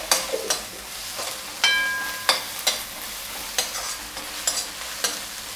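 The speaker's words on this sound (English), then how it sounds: "Just keep stirring, mixing it until this raw flavor of the ginger garlic paste just goes away" Ginger garlic paste frying and sizzling in a pan while a spoon stirs it, with repeated scraping strokes and clinks against the pan over a steady hiss.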